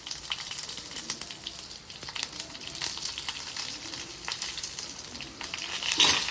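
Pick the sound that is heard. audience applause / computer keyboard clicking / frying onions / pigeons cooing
frying onions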